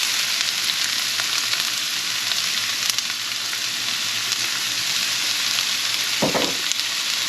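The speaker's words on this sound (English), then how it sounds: "I've added about 1 tablespoon to 2 tablespoons of olive oil in here for cooking. I'm going to add my onion first." Onion sizzling and frying in one to two tablespoons of olive oil in a pan, a steady close hiss throughout with a brief stirring clatter near the end.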